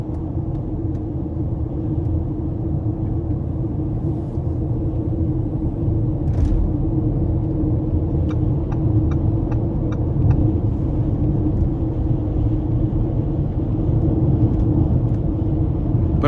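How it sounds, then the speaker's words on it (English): Inside a 2019 Lamborghini Urus on the move, a steady low tyre and road rumble fills the cabin at an even level the whole time. A few faint ticks and clicks sit above it, and no one speaks. "Got a little bit of road noise"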